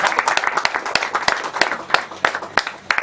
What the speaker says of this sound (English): let us clap for the chief enabler, President Yoweri Museveni